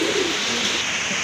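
Domestic pigeons kept for sale, among them deep red birds, coo in a soft, low, continuous murmur close by, with no talking.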